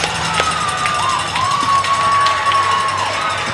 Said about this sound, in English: crowd going wild here.